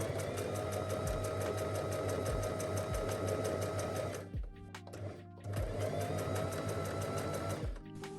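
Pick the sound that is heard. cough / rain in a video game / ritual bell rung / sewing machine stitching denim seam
sewing machine stitching denim seam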